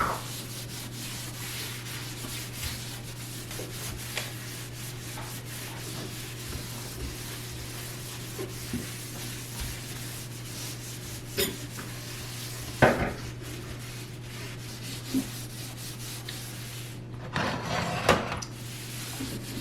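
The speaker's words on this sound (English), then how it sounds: "And scrub the sink." A kitchen sink being scrubbed, a steady close rubbing and scouring over a constant low hum, with a few sharper knocks and clatters near the end.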